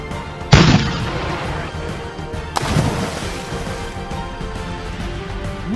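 Cannon fire in a LEGO pirates escape scene from an imperial outpost: two sharp booming shots a couple of seconds apart, loud and close, each trailing off in a rumbling decay.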